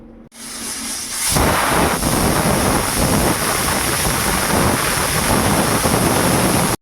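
A loud, steady hissing rush fills the whole clip, steam forcing out of a pressure cooker cooking mutton curry, starting after a brief quieter moment.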